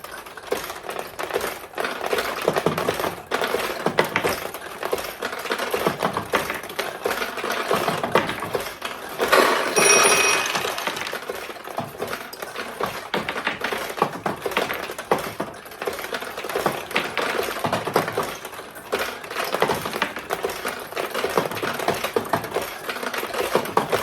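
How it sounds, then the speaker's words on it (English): A restored vintage 1975 Sanyo Comet II pachinko machine fires balls in a dense, continuous rattling clatter of metal balls and launcher clicks, steady and close, with a brief louder flurry midway. "And now the machine is ready to accept your balls, and you just start to launch them."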